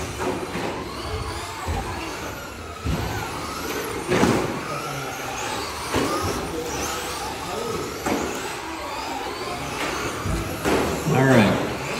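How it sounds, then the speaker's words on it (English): Traxxas Slash short course RC trucks race and bash on an indoor carpet track, electric motors whining and buzzing with repeated thuds and clatters of collisions, while a commentator talks over them throughout. "We got short courses rolling over, running into each other, just bashing it away."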